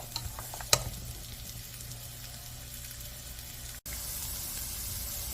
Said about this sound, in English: simmer this for about 6 to 8 minutes until your veggies start to soften up